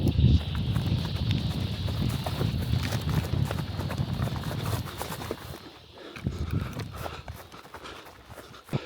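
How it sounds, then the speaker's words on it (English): Cows and bulls run along a fence line, a dense, continuous patter of many hooves thudding at moderate distance, thinning out toward the end. "All the cows and the bulls basically started running after me, trying to follow me along the fence line"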